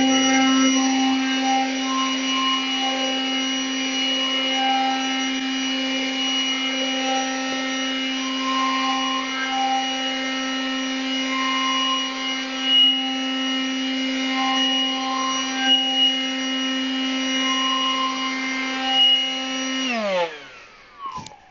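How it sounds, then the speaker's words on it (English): A Ryobi 18-volt brushless leaf blower clearing a light dusting of snow, running as a loud, steady whine with a strong, even tone throughout before cutting off and winding down at the very end, with no talking. "then I'm able to move the snow with the blower"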